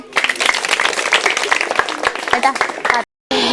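Children at a primary school event clap in a dense, lively burst under continuous voices, ending abruptly with a brief gap before the noise resumes.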